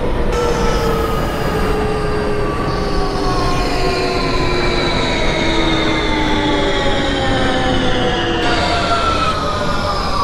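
A simulated New York subway M train, an R160B Siemens car, runs steadily between stations with a loud, continuous rail rumble and faint wheel squeal throughout.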